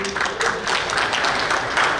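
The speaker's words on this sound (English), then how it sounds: "a big round of applause for him" Audience applause at a cricket awards and annual banquet night, a steady dense wash of clapping from a roomful of guests lasting the whole moment, fairly close and even in loudness.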